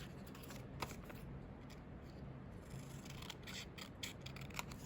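Scissors snip through paper to trim a junk journal page, a few quiet, crisp cuts in short bursts close by with no talking.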